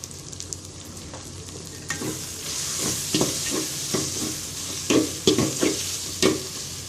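A turmeric, chilli powder and salt spice mix is sautéed for a chicken and potato curry: a soft sizzle runs beneath repeated scraping stirs and clinks of a spoon against the pan, coming in irregular bursts.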